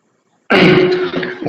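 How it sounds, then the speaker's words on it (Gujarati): After brief silence, a single harsh, close cough bursts out, loud and rough, trailing into a raspy throat sound. "મને થોડીક ઉધરસ થઈ ગઈ છે"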